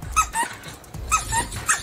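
A small dog lets out a quick run of high, squeaky yaps and barks in short bursts, close and fairly loud, with no talking over it.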